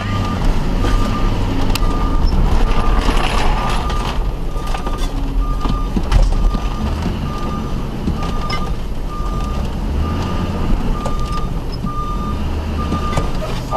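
A repo tow truck backs up toward a car, its reversing alarm beeping steadily over a loud, continuous engine rumble close by.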